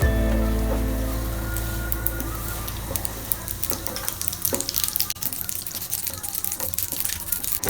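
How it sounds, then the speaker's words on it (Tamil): Mustard seeds, cumin and fenugreek crackle and spatter in hot oil in a pan, with dense, irregular popping over a steady hiss, close by and fairly loud. "ஒரு பேனில் கொஞ்சமாக எண்ணெய் விட்டு கடுகு, ஜீரகம், வெந்தயம் போட்டு தாளிச்சுக்கோங்க"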